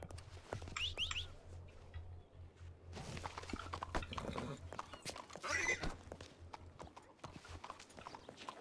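Horse in the RedM video game: steady clip-clop of hooves with a whinny near the start, moderately quiet, alongside background game ambience.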